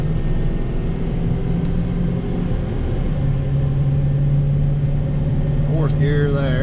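A 2019 Ford F-750 dump truck engine pulls under load, heard from inside the cab as a steady, loud low drone with a firm mid-range hum, and a voice cuts in near the end.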